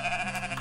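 A sheep bleating in the video game Moirai, a single short, close, nasal bleat with no talk over it.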